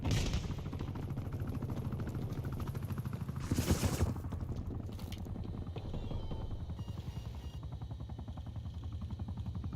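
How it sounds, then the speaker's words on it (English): Enemy attack helicopter in a first-person shooter game, its rotor chop mixed with continuous gunfire and explosive bursts, with a louder blast near the four-second mark, all dense and sustained throughout. "Enemy attack helo above."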